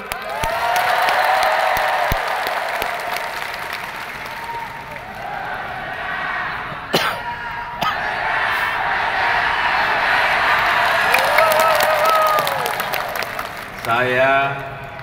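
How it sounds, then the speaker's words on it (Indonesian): Sustained, fairly loud audience applause at a national Teachers' Day ceremony in Indonesia before a presidential address, with a few scattered cheers and a voice briefly speaking over the clapping near the end. "Tepuk tangan yang semangat."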